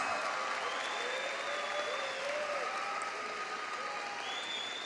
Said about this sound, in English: A round of applause for these students and their accomplishments.